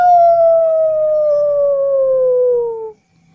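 A single loud wolf howl, used as a sound effect in a children's story, holds one long, smooth tone that slides slowly downward for about three seconds before cutting off into silence.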